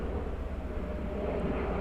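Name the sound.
jet aircraft passing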